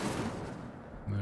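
A fire spell, Incendio, is cast in the Hogwarts Legacy video game: a short, dense burst of crackling, whooshing noise, ending in a low, steady hum.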